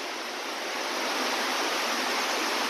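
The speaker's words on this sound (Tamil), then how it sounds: "வாட்டர் ஃபால்ஸு, ஆனால் ஃப்ளோ கொஞ்சம் கம்மியாக இருக்குது." A waterfall with low flow pours as a steady, broad rushing hiss that swells slightly over a few seconds, with no voices.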